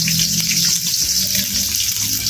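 Oil left over from frying tilapia sizzles loudly in a pan as ingredients sauté, a dense continuous crackle and hiss close up, with low cooking rumble underneath.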